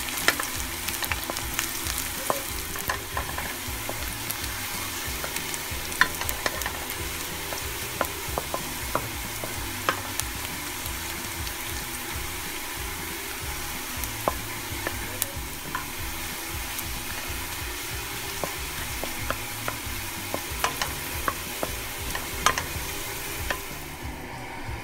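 Chopped onion and minced garlic fry steadily in a pan with a continuous close sizzle and occasional light stirring clicks, no voices.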